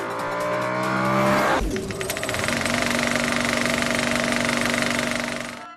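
A car engine revs hard through its exhaust pipe, a loud sustained roar that drops briefly and then settles into a steady, rasping drone.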